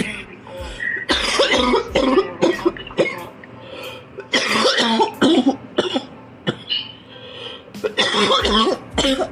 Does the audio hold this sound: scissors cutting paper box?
no